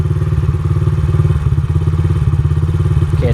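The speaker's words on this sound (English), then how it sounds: "Let's bring it back down to idle." A dirt bike engine idles steadily nearby, a loud, even low thumping pulse that holds for several seconds with slight clatter, no voices over it.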